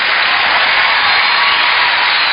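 A studio audience on a Kazakh comedy show breaks into steady, dense applause, loud and continuous throughout, with no voices on top.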